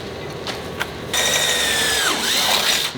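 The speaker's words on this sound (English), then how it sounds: "So I'm just going to drill it through." A power drill bores through the flatbed of an XP camper to make a bolt hole, a few faint clicks giving way to a steady, loud whine that runs for about two seconds, close up and with no talking.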